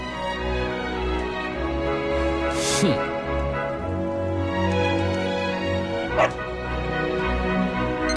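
A dog barking and yipping in Dragon Quest XI S, with repeated loud barks and whimpers over steady game music in a town scene.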